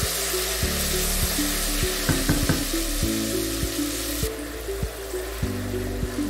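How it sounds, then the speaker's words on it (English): Tomato puree frying in hot oil for Ghanaian shito hisses steadily up close, with a brief clatter partway through and music playing underneath. "Our oil is now ready. I'm adding tomato puree to"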